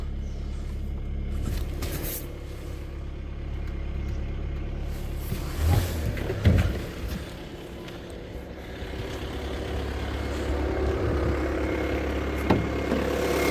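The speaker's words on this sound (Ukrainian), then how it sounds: "Двигун тут працює як я кажу, все як швейцарський годинник, він працює дуже тихенько." A Volkswagen Touran 2.0 TDI diesel engine idles with a low, steady rumble throughout, broken by a few soft clunks and knocks nearby.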